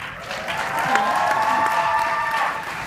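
A graduation audience for the class of 2015 cheers and applauds loudly and steadily, a dense wash of clapping and shouts that swells and holds for nearly three seconds before starting to fade.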